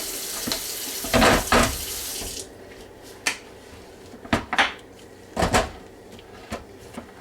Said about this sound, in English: First thing I always do is I always rinse out my crock pot.